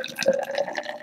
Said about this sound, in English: And now I'm going to add 60 milliliters of water.